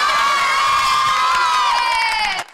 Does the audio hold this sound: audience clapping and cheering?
yes